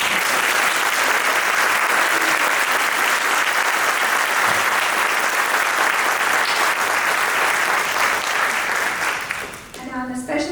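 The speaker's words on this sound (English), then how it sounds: "I think he needs one more big round of applause." A large conference audience claps loudly and steadily for the Chancellor at an opening session, sustained applause that fades near the end as a voice begins to speak.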